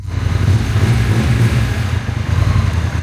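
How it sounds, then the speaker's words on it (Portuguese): A Honda NT motorcycle engine running steadily after starting, a loud, close, even low-pitched rumble with no voices. "Então, o motor iniciar."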